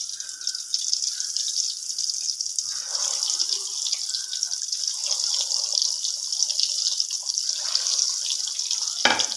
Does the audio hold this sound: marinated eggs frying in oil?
yes